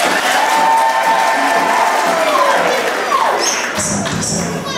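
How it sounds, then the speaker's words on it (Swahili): Wedding guests clap and cheer in a loud, dense wash of crowd noise that runs the full length, easing slightly toward the end. "Tafadhali piga makofi vizuri."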